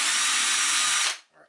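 A small power drill fitted with a 1mm bit whirs at high speed while drilling holes to mount a Seep point motor, a loud steady whine that stops abruptly, followed by a brief faint sound.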